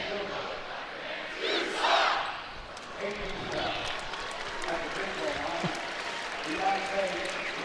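The Utah State Aggie home crowd chants and roars during a college basketball game against South Florida, a rising shout then a steady rumble of the arena, with a commentator talking over it.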